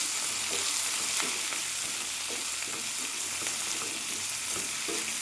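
Chopped tomatoes sauté in a pan for tomato pickle with a steady, close sizzle, while repeated light scrapes of a spoon stirring break through now and then; no one talks.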